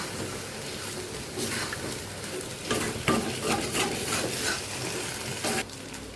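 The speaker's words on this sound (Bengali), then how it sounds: "টোফুগুলোও দিয়ে দিচ্ছি, দিয়ে আর একটু কষিয়ে নেবো ভালো করে।" Tofu and fried potatoes stir-fried together in a pan, a steady close sizzle with repeated scraping and stirring strokes of a spatula against the pan throughout.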